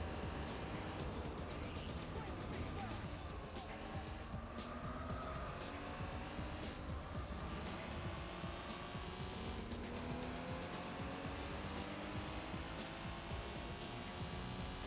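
Race cars in Gran Turismo 4 Spec II chase an RX-7 around the track, giving a continuous engine drone with bursts of tire squeal and cars sweeping past, steady and moderately loud with no talk.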